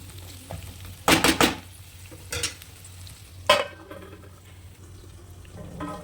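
A spoon stirs brinjal curry in a pan in a few quick scraping strokes, then a plate is set over the pan with a clink, under a soft steady sizzle.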